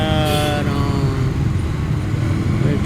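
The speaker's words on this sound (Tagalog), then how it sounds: "medyo matraffic na siya guys. Matraffic na roon, matraffic na" Busy road traffic at an intersection, cars and motorcycles idling and moving, a dense steady engine rumble with a brief higher whine early on, fairly close and loud throughout.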